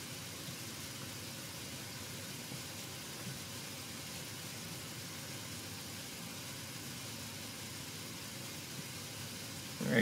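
Auxiliary power unit of a PMDG 737NG airliner in the FSX flight simulator runs with a steady, even whine and engine drone for the whole stretch, moderately loud with no speech.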